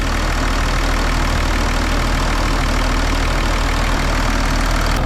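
A repaired Audi A6 engine idles steadily and close by, a continuous low rumble with an even, slightly knocking rhythm and no voices.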